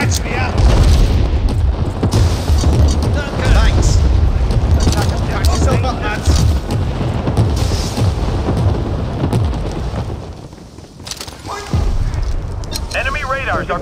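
A grenade goes off in the World War 3 shooter game, a deep booming blast amid continuous loud rumbling explosions and battle noise, with in-game voices calling out over the din.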